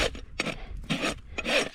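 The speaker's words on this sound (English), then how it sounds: "Take that spot I missed on that side down with the rasp." A rasp files down a horse's hoof during a trim of a BLM mustang, giving four distinct rough scraping strokes, close and fairly loud, with no talking.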